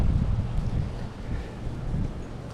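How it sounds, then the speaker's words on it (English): Strong wind buffets the microphone at a lakeside feeder fishing spot, a continuous loud low rumble with gusting swells and no talk. "it's so windy"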